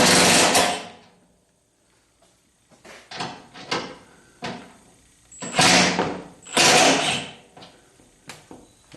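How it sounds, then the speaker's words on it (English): An impact wrench on its lowest setting drives self-tapping bolts while a spare tire carrier is fitted to a 1976 Corvette restomod, several short loud close bursts separated by pauses and small clanks. "that was with the impact wrench just on the lowest setting"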